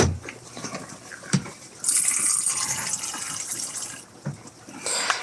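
Water poured into a container for pets kept in a trailer, a close, steady splashing stream lasting a couple of seconds with a few soft knocks and a brief second pour.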